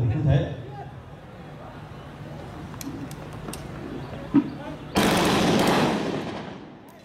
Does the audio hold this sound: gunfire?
yes